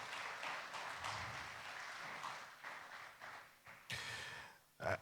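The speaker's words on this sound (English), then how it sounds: "Another round of applause, please, for the Minister of State" A conference audience of customs officials claps for the Minister of State, a dense, steady round of applause from a seated crowd that thins and tapers off toward the end.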